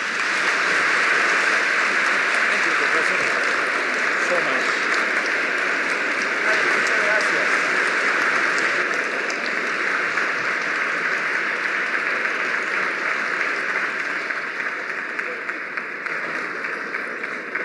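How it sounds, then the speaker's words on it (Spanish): Strong, sustained audience applause closing a debate between Richard Dawkins and a Jesuit priest, Gerardo Remolina; a thick, even wash of many hands clapping that stays loud for the whole stretch and eases slightly toward the end. "despidamos al profesor Dawkins y al padre Remolina con un fuerte aplauso"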